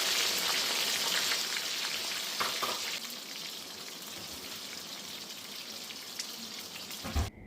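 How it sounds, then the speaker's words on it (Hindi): A bay leaf sizzles in hot oil mixed with ghee, a steady bright crackling hiss that runs continuously and eases slightly in loudness partway through. "गरम हो गया है तो तेज पत्ता डाला है"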